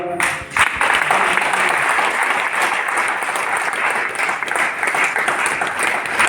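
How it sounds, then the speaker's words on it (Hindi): Loud, sustained audience applause at a motivational success-story event, a dense wash of many hands clapping that stays strong throughout after a brief opening moment, with no speech over it. "सबसे पहले तो एक जोरदार ताली"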